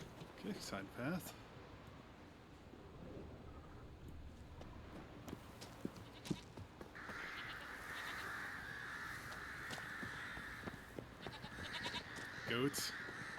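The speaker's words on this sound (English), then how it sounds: "Goats." Goats bleating in a countryside setting, a few wavering cries rising above a faint outdoor background with scattered clicks and rustles, fairly distant and quiet.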